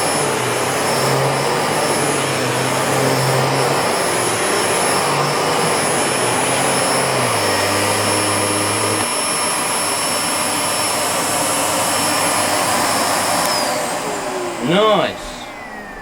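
A Miele S7510 upright vacuum cleaner runs with a steady, loud motor roar for most of the stretch, then winds down near the end, followed by a brief sweep of sound.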